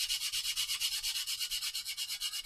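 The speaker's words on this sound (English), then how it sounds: "All right, so again we can just sand in" Hand sanding over cured CA filler to smooth it flat, a steady rhythmic back-and-forth rasp of abrasive strokes, close and fairly quiet, about five strokes per second with no talking.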